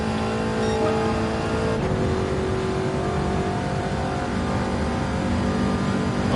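A race car engine in Gran Turismo 7 drones at steady high revs, loud and continuous throughout, with a brief shift in pitch partway and no talk over it.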